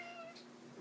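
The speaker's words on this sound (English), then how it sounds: "And that's my cat meowing." A house cat gives a single drawn-out meow, faint and close, over the steady whir of a high-speed ceiling fan.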